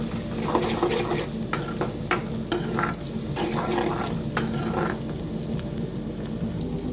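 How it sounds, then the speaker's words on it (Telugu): Green chillies frying in a pan until golden brown, a dense, continuous close sizzle with occasional stirring scrapes and clinks throughout, and no talk over it. "వేసుకొని గోల్డెన్ బ్రౌన్ కలర్ వచ్చేంత వరకు వేపుకోవాలి."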